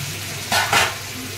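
Water splashes into a sizzling Bengali fish head and mixed vegetable dish in a pan, raising two short, loud bursts of hissing over a constant close frying sizzle, with no one speaking.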